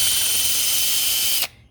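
Power sander working on a damaged Redline wheel during restoration, a loud, steady, high-pitched whirring grind close by that cuts off abruptly near the end, no talk.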